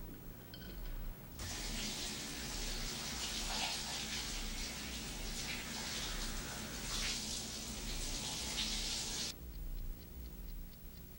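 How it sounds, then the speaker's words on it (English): A shower runs as a steady, even rush of water that starts abruptly, hisses for about eight seconds, then cuts off, heard at moderate distance without speech. "Do I hear the water running? I think she's taking a shower."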